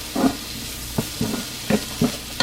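Bitter melon (ampalaya) sizzling in a frying pan while being stirred, with a steady hiss broken by four or five close, distinct scraping strokes of the utensil.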